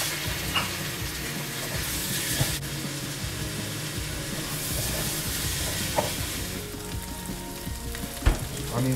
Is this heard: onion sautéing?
yes